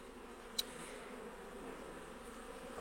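Honeybees hum softly and continuously at an open beehive during a hive inspection, with one brief sharp click near the start and no talk.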